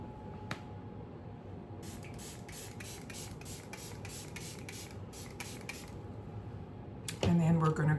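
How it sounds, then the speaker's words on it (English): A setting spray misted onto a face sounds as a quick series of short, soft, airy hisses from a pump bottle. The pumps come in two bursts, close and faint, over a low room hum. "And then what I'm gonna do is just spray one more time."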